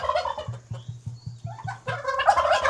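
A turkey gobbles close by in a rapid, rattling burst, then another loud gobble follows after a short pause. A low rhythmic pulsing runs underneath the calls.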